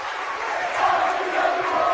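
A home crowd at a high school girls basketball game cheers and rises to its feet, a dense, steady roar of many voices that holds loud for about two seconds.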